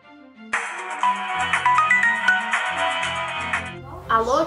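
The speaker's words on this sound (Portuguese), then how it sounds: "Eu acho que eu vou ligar pro Felipe" A mobile phone plays a melodic ringtone as an outgoing call rings through, loud and close for a few seconds before cutting off, with a voice starting to speak at the very end.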